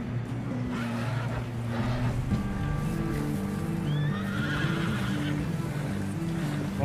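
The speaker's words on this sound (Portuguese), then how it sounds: "Deixa eu subir no cavalo aqui." In the video game Red Dead Redemption 2, a horse gives a loud neighing whinny while hooves clop beneath it, with steady ambient game noise and no talking.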